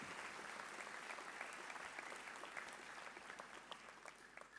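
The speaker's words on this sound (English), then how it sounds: "Please join me in giving them a round of applause." Steady audience applause at a school graduation ceremony, dense and continuous clapping from a large crowd throughout, heard at a moderate distance without talk.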